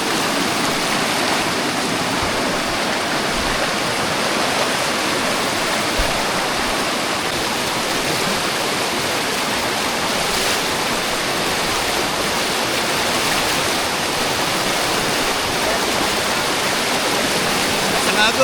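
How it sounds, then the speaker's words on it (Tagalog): A powerful waterfall and fast-rushing stream roar steadily and loudly throughout, a dense unbroken wash of water noise close by. "Indikasyon na malakas din ang tubig ng falls dito."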